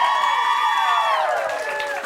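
A studio audience cheers and whoops together, a bright, sustained crowd roar that fades slightly toward the end.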